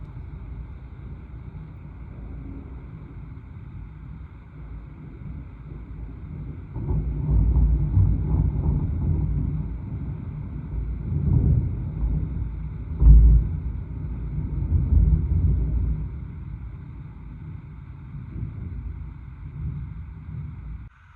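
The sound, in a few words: cold strong wind with thunder, Netherlands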